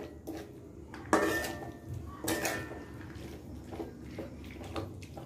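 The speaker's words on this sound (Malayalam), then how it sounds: "ലോ ഫ്ലെയിമിൽ ഇട്ട് ഇങ്ങനെ ഇളക്കി കൊണ്ടേ നിൽക്കണം" Sweetened bitter gourd pickle stirred in a pan over a low flame, with several distinct metallic scrapes and clanks of the spoon against the pan, close by, over a soft bubbling background. No one speaks.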